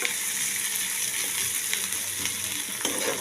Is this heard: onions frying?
yes